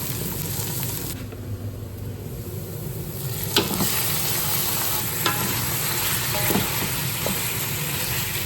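Browning onion and spices for chicken biryani hiss steadily in hot oil, a loud continuous sizzle broken by a few soft clinks and scrapes as the pan is stirred.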